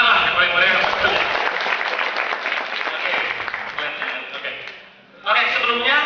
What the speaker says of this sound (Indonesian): Tepuk tangan lah yang paling meriah.